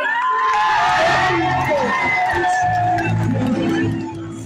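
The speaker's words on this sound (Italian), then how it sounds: "E un applauso all'Istituto di Bivona." A loud crowd of students at a competition between hotel-management schools cheers and shouts, with whoops and overlapping voices and clapping buried in the din.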